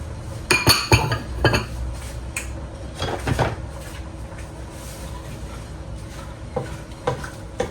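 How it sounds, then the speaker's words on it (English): Broccoli florets, about two heads' worth, tipped into a soup pot, with a cluster of sharp clinks and clunks against the metal early on, then a few softer knocks over a low background. "So I'm just going to put all this broccoli in here and then cook it for about 5 minutes"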